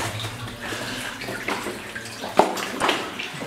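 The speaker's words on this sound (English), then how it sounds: "This much water flowing out means that the other winze is probably right up here because it's also flooded." Water gushing out of a flooded abandoned mine tunnel near a winze, a continuous rushing, splashing flow with echoing gurgles and a sharp knock partway through.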